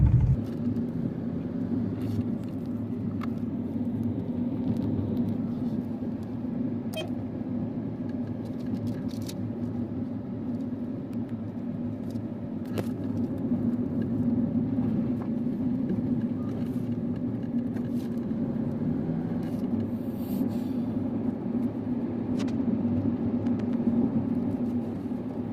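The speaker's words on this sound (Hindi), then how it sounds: "ऐसे खड्डे वाले रास्ते में हमें गाड़ी आगे ले जानी है।" A Hyundai Santro hatchback drives along a rough, potholed road, its engine a steady low rumble from inside the car with occasional light knocks and bumps, no talking heard.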